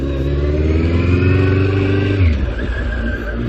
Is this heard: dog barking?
no